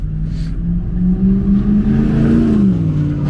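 A car with a newly installed oil catch can revs hard under load from inside the cabin, the engine note climbing steadily and then easing back, loud and continuous with no talking.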